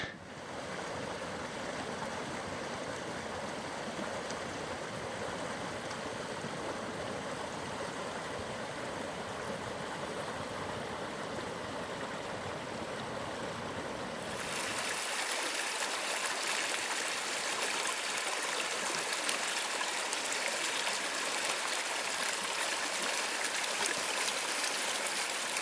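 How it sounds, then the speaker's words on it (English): Small tributary stream flowing down a hillside on an early-spring backpacking hike, a steady rushing wash of water that shifts brighter and closer partway through, with no voices. "That's like a little tributary coming down."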